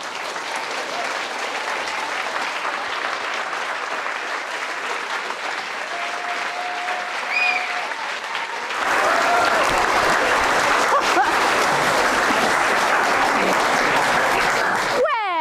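Theatre audience at a Shakespeare performance grand final, at the death of Macbeth, bursting into loud sustained applause with cheering, which swells sharply midway and carries on as a dense, continuous roar of clapping.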